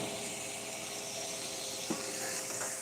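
Steady sizzle of meat and onions sautéing on a hot griddle for a cheesesteak, a continuous hiss filling the scene with a brief clatter near the end.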